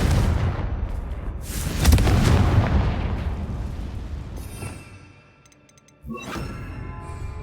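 A Confringo blasting spell in Hogwarts Legacy, a loud rumbling explosion that fades away, then a sharp second blast with a ringing tail.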